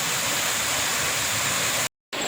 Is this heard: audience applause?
no